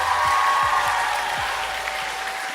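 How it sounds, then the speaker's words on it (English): Conference audience applause for a speaker, a dense, even wash of many hands clapping throughout, loud and close with a few low thumps. "Let's give a huge round of applause for Mr."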